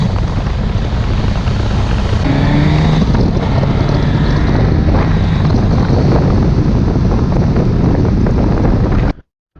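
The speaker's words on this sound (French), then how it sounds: "Je vais vous laisser profiter un petit peu du bruit du pot échappement Yoshimura qui est monté dessus," A Suzuki GSX-S 1000 GT motorcycle fitted with a Yoshimura exhaust, baffle still installed, roars loudly and continuously as it rides under heavy wind rush, the engine note swelling steadily before cutting off abruptly at the end.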